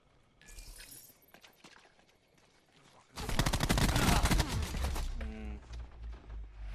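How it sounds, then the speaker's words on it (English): Light machine gun fire rattles in Black Ops 4, a loud sustained automatic burst of rapid shots after quieter scattered game sounds, then tapering into further firing. "Now they're using LMGs."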